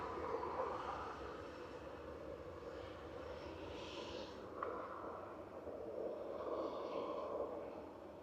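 A Ryanair airliner at Manchester Airport gives a steady, broad jet-engine roar that holds at an even level throughout, distant and alone with no talk.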